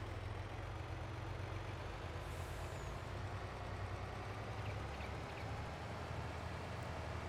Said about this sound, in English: So we'll bring our lorry over to the other side of the field here.